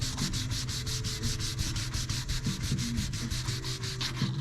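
Fine 1000-grit sandpaper rubs back and forth in quick, even strokes over a painted surface on a restored 60-year-old Lincoln tombstone welder, giving a close, rhythmic scratchy swish with no talking.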